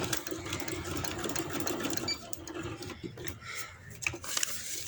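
A sewing machine stitches an embroidery outline on trouser fabric, running in a steady close whir that pauses briefly and restarts, alone with no voices.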